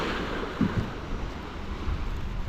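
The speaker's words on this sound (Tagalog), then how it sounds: "Medyo tumataas-taas yung alon eh." Sea waves rolling in at Nagsasa Cove under gusty wind, a steady broadband wash with soft surges and occasional low thumps of surf, no voices.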